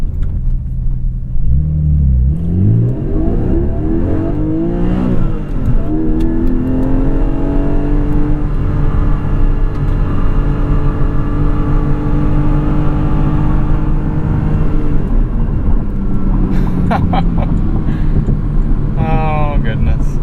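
A 2021 Porsche 718 Cayman GTS with the 4.0 engine and six-speed manual revs and accelerates hard, its loud engine note rising in pitch through the gears with wind rumble underneath.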